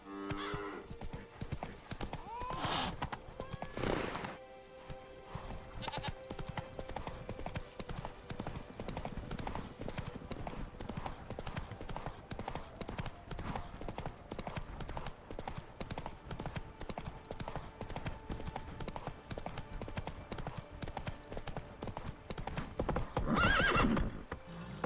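Roach the horse gallops with steady rhythmic hoofbeats in Witcher 3: Blood and Wine, with occasional whinnies and snorts over a soft game soundscape.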